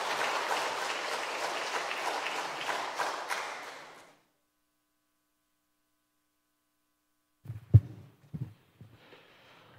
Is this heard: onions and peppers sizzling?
no